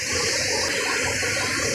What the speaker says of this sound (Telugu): కానీ వాటర్ ఫాల్ అయితే చాలా బాగుంది బ్రో.